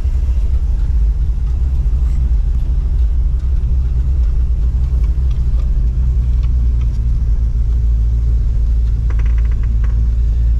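A Pontiac LeMans being test driven runs with a loud, steady low engine rumble, a continuous close drone with no talking.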